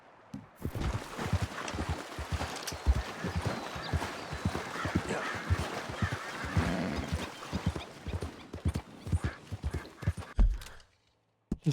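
Horse hooves clip-clop in a busy, steady rhythm close by in the video game Red Dead Redemption 2, with occasional snorting, then stop abruptly near the end.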